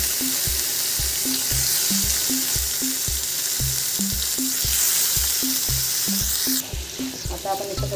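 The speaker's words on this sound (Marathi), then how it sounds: "त्याच्यात मी टोमॅटो घालते।" Tomatoes with chillies and onion frying in a pan, a steady loud sizzle with a regular, rhythmic scraping or stirring underneath, close by and without talking.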